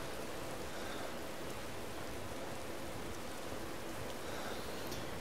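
Rain weather in the video game Morrowind, a constant, even hiss of falling rain that stays soft and uniform with no other sounds.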